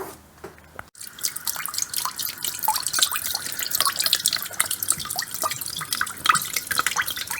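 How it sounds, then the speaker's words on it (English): Water runs and drips from the drain tap at the bottom of a car radiator, a continuous close trickle with irregular splashes and patters, without talk. "drain the water out. There's a tap on the bottom of the radiator."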